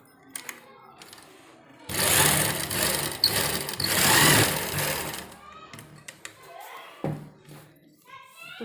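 Sewing machine stitching a readymade kurta for fitting, a loud whirring run of about three seconds, with hands handling fabric and a shorter burst after it.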